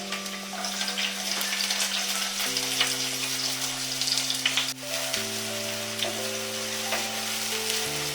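Onions frying in hot oil sizzle steadily in a pan, a dense close crackle with light stirring, while sustained background music tones run underneath and no one talks.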